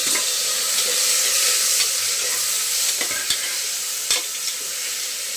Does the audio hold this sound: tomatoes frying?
yes